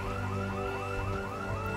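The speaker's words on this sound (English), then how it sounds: "Oh, another alarm's just gone off." An alarm blares in the video game Project Zomboid, a loud repeating wailing tone that cycles up and down in rapid sweeps, steady and unbroken, with no talk.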